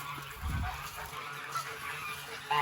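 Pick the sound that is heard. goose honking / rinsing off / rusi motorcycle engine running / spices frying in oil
goose honking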